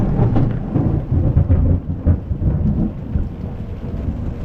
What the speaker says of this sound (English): it's another thunderstorm and this is so intense